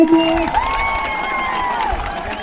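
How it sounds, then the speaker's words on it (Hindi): Spectators at an outdoor kabaddi semi-final applaud a player, with clapping mixed into loud crowd cheering and drawn-out tonal shouts or whistles rising over the noise throughout. "तालियां होनी चाहिए इस खिलाड़ी के लिए"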